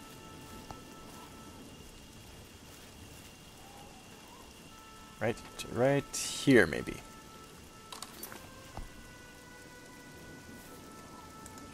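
Steady soft rain patters in the background of Oblivion's outdoor wilderness, a constant light hiss, while someone speaks briefly and a louder burst of voice sounds midway.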